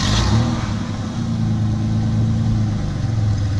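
An old pickup truck engine revs while the truck is stuck, a steady loud mid-pitched drone with slight rises and dips in pitch, close by and continuous.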